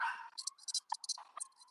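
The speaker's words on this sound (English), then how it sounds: "So sorry about the dogs" Dogs bark in the background, several quick faint yips and barks in an irregular cluster, heard distantly and fairly quietly.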